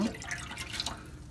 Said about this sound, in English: take some of this water, pour it in that tank